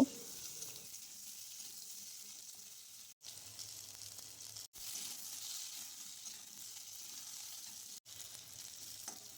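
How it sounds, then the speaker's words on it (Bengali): Cut potatoes frying in hot oil in a wok, right after fish was fried in it, make a soft, continuous sizzle with a few brief breaks, heard alone and at low volume. "ওই তেলের মধ্যে কেটে রাখা আলু দিয়ে দিলাম আলুগুলোকে লাল করে ভেজে নেব"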